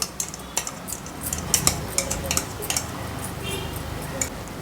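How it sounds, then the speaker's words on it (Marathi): Spoon clinking and scraping against a bowl while yogurt is scooped out for a spicy Maharashtrian elephant foot yam curry, a run of light close taps and scrapes over a steady background hiss. "एका बोलमध्ये आपण एक वाटी दही काढून घेणार आहोत"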